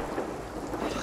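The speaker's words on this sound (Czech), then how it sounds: "koukám, že ta bouřka tak jako se točí okolo" Steady, dense storm noise rumbles in the pirate video game Sea of Thieves: heavy rain and low thunder in a continuous loud wash with no voices.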